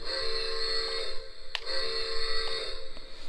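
A Lionel O gauge Polar Express toy train sounds its electronic whistle in two steady, fairly faint tonal blasts separated by a brief gap.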